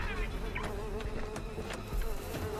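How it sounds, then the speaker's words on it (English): Wasps buzzing around inside a car, a steady close insect drone with a few sharper flutters over a low rumble, alone without talk. "Oh no, I hate wasps."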